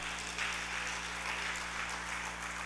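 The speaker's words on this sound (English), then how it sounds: "A round of applause for Baba" Applause at a 70th birthday and retirement program, steady dense clapping from a sizable audience filling the room at a moderate level without pause.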